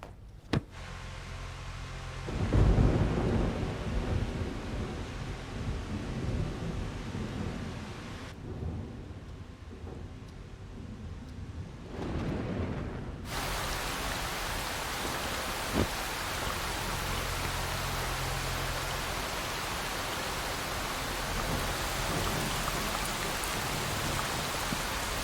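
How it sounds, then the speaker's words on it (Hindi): Heavy April rain pours down steadily in a broadband hiss, with a loud rumble of thunder early on and continuous downpour throughout, no voices. "अप्रैल में ऐसी बारिश कभी नहीं होती."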